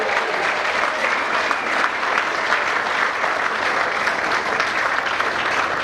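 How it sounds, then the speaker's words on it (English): Guests at a wedding give a round of applause, a dense and steady wash of many hands clapping together that holds at an even loudness throughout, with no talk over it. "Another round of applause."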